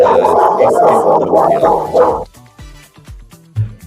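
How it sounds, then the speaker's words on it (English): A dog barks several times in short yips and woofs, first mixed with a loud jumble of voices, then alone in quieter moments. "Barking dog. I'll have to let you go."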